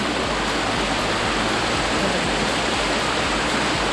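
Water pours steadily in a loud, continuous rush from an outdoor budget backpacker shower, a dense splashing hiss with no voices over it.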